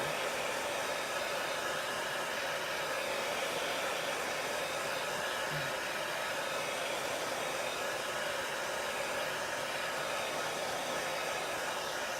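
A hair dryer set on warm blows steadily and close by, drying a layer of craft paint on a Chalk Couture buffalo plaid transfer; a continuous even whoosh of airflow holds without pause, with no talking.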